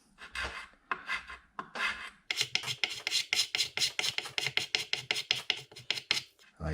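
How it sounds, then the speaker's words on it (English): A heavy razor-blade scraper stripping old varnish from a split, moisture-damaged wooden name board, heard as a few slower strokes and then a fast run of rhythmic rasping scrapes, close and loud with no talk. "this scraper with a heavy razor blade may be a bit aggressive, but I do need to sort out this varnish here"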